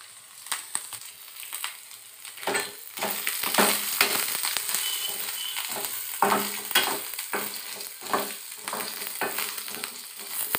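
Wheat sautéed in ghee for payasam sizzles softly while a spoon stirs and scrapes the pan in repeated, uneven strokes, close and fairly quiet.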